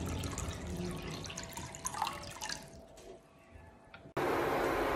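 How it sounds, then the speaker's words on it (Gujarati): Water pours steadily into a kadai for rasgulla sugar syrup, a continuous splashing trickle for about four seconds, then a sudden louder hiss of water or flame noise at the end. "એમાં આપણે 5 કપ જેટલું પાણી નાખીશું."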